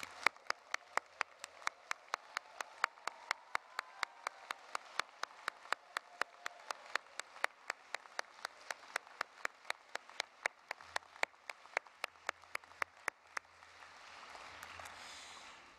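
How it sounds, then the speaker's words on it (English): Applause at a university graduation ceremony for new psychology and social work graduates, faint and distant, with sharp regular claps standing out over a soft wash of crowd clapping. "a very rousing round of applause for our newest graduates"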